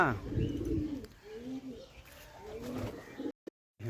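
Pigeons coo softly and repeatedly at moderate distance in a rooftop setting, with low murmuring background noise and a brief dropout near the end.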